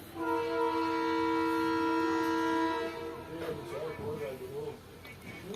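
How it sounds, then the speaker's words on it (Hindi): The departing whistle of Pakistan Railways GMCU 154903 sounds as one long, rich multi-tone blast for nearly three seconds, then fades into rumbling train and platform noise with faint voices. "और अब ट्रेन ने विसल लिया है, डिपार्टिंग विसल।"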